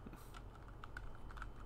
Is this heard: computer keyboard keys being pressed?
yes